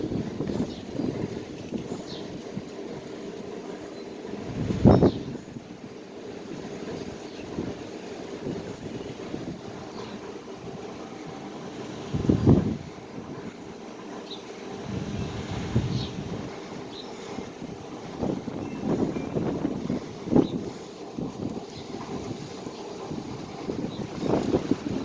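Heavy wind in Albuquerque, New Mexico roars across an outdoor microphone in a constant rumble, with several loud gust bursts buffeting it over the stretch.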